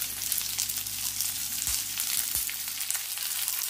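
Coriander seeds, black peppercorns and cumin dry-roast in a pan with a steady, fine crackling hiss, broken by a few soft low thumps from stirring.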